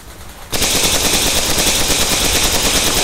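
Players fire continuous automatic gunfire at a giant spider boss in a cave raid in Stay Out. A dense, loud, unbroken rattle starts abruptly after a short quiet moment.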